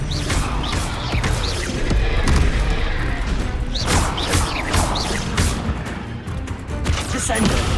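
Expelliarmus cast in the Hogwarts Legacy video game, with dense magical blasts, whooshes and booming impacts repeating close and loud over busy combat effects.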